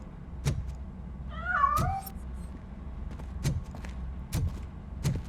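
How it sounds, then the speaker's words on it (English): A cat in RoboCop: Rogue City lets out a single short meow amid scattered dull thumps and low background rumble, no talk. "That cat must be hiding inside. Let me lure it out."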